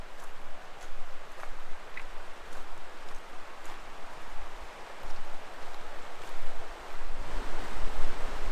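The Little Missouri River rushes steadily beside a hiking trail under a cliff wall on the Eagle Rock Loop in Arkansas, a continuous broad roar of flowing water with gentle surges and no voices.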